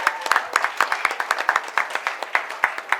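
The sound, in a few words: applause at convocation ceremony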